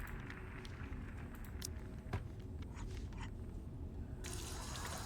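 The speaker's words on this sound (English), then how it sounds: "I rinse them up in the sink first" Water running into a sink in the video game Back to the Dawn, a quiet continuous splashing stream with a few faint clicks, brightening near the end.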